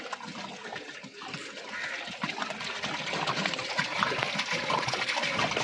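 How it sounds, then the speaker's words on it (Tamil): A can of water is poured into a large pot for mutton biryani, making a steady, splashing gush that builds gradually louder and fuller and keeps going without pause. "இப்போ நம்ம 3ஆவது கேன் தண்ணி நம்ம கேமராமேன் ஊற்றிக்கிட்டு இருக்காரு."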